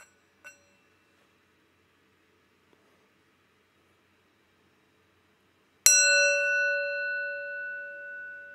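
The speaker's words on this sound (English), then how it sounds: "Let's warm up the bell." A single bell is struck once, giving a sharp bright strike followed by a long, clear ringing tone that slowly fades out in an otherwise quiet room.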